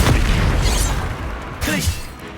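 A Bombarda spell explosion in the video game Hogwarts Legacy lands as a loud, deep boom with rolling low rumble, followed by a second fainter burst, while a voice shouts over it.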